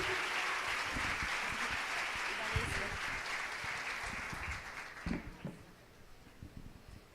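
A church congregation applauds in dense, steady clapping that fills most of the stretch, then thins into scattered claps near the end while murmured voices linger underneath.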